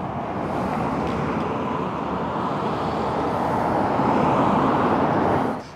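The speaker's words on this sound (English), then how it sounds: "Just trying to get out of the traffic and the traffic noise." Steady road traffic noise near a railway bridge, a continuous broadband roar of passing vehicles that builds slightly and then cuts off, with no voices.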